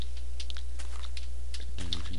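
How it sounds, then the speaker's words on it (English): Computer keyboard typing in short bursts of clicks while a seed is entered into a Minecraft world-options screen, close and fairly quiet over a steady low hum, with no talking. "and type that in"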